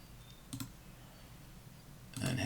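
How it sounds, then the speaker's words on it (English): Two quick, faint clicks of a computer mouse in a quiet room, the second a short double click. "So we're just going to click through all these."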